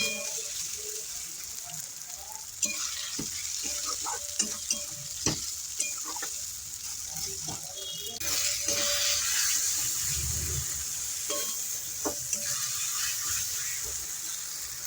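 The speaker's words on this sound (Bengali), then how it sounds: "মশলাও দিয়ে নিয়েছি, কষিয়ে নিচ্ছি ভালো করে" Spatula scraping and stirring spice paste with fried onions in a pan over a soft sizzle, with irregular knocks and clinks throughout, close and moderately quiet.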